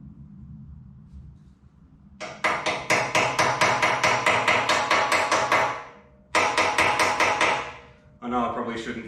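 A copper hammer strikes a motorcycle bearing race in rapid, ringing taps, two long bursts of repeated blows separated by a short pause, then a brief final flurry, close by.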